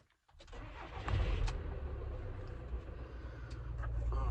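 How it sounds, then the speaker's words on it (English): A car engine cranks and catches after a brief silence, then settles into a steady, loud low rumble that holds and slightly builds for a few seconds, with no talk over it. "Guess I got to start the car engine"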